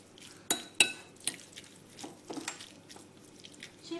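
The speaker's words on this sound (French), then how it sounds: "je mélange bien" Utensil scraping and clinking in a dish while a leek and fish mixture is stirred, a few sharp clacks at irregular intervals between quieter scraping, close and fairly soft.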